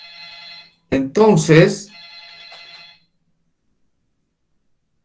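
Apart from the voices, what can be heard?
telephone ringing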